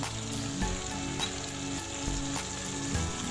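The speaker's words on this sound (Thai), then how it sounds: "ผัดคลุกเคล้าทั้งหมดนะครับให้เข้ากัน" Pad kra pao with chicken intestines, fish sauce, sugar and oyster sauce being stir-fried, a steady close sizzle with periodic spatula scrapes and tosses in the wok, no talking.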